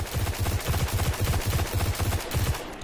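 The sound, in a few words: Khvostov pulse rifle firing in the video game Destiny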